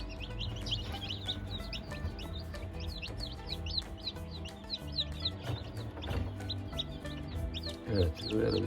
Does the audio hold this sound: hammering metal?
no